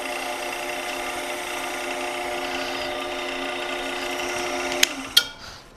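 A power drill with a drill bit bores into a wooden shaft while building a wooden desk lamp, giving a steady whining hum for several seconds that ends in two sharp clicks as the motor stops.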